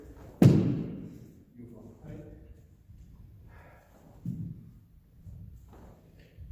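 A karate kick lands with one sharp, heavy thud near the start, followed by softer bumps and shuffles of practice, while an instructor and students talk throughout.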